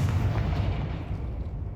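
Confringo fire spell explosion in Hogwarts Legacy: a deep, loud rumbling boom that fills the moment and slowly fades without any other sounds.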